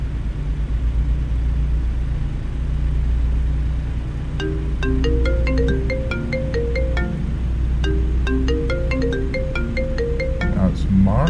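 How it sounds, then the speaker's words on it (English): A phone ringtone plays a repeating melodic pattern through a car's speakers after a redial, over the steady low rumble of a moving car's engine and road noise. "So let's get us dialed back up."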